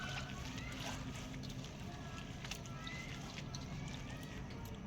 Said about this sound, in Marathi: आपण कोथिंबीर चिरून घेतलेली आहे, स्वच्छ पाण्याने तिला धुवून घ्यायची